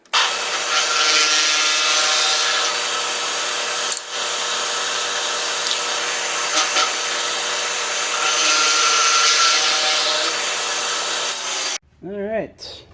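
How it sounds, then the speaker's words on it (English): A power drill boring a larger hole into the wood of a cheap 9-foot boat, whining steadily and loudly for about twelve seconds with a brief dip midway, then stopping as a voice briefly speaks. "the plan is now to drill a larger hole in there to kind of remake my lost recess"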